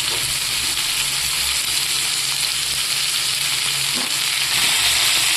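Cut potatoes frying in a pan with panch phoron, a loud continuous sizzle with occasional stirring scrapes, close and steady without voices.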